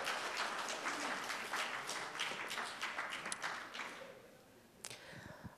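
Audience applause at a lecture hall talk, a dense wash of many hands clapping that fills the room and then thins out and fades toward the end, with a few scattered claps left.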